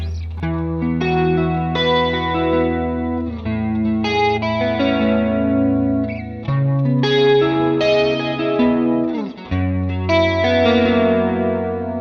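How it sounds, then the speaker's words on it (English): An electric guitar played through a Valeton GP-200 multi-effects unit with delay and modulation rings out in layered chords and sustained notes, with echoing repeats and a shimmering chorus wash, loud and alone. "If I want to add a delay, if I want to add a modulation,"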